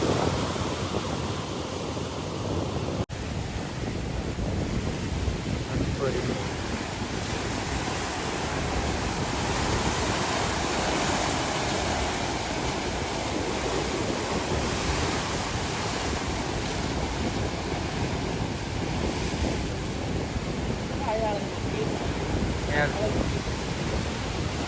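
Sea waves wash continuously onto a beach shore, a broad steady roar of surf with wind buffeting the microphone throughout.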